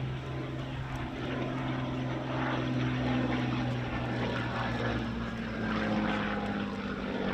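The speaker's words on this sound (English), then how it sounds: "we're very happy to demonstrate for you this incredibly rare example of an airworthy 109G right here at the Military Aviation Museum" A rare airworthy Messerschmitt Bf 109G warbird flies at the Military Aviation Museum, its piston engine and propeller giving a continuous loud droning rumble with a steady low hum and slowly swelling intensity, with no voices.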